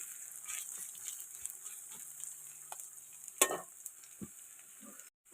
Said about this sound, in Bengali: তো হালকা করে অল্প তেলেই রান্নাটা করছি। এর মধ্যে এবারে গোটা জিরে দেব আর কাঁচা লঙ্কা বাটা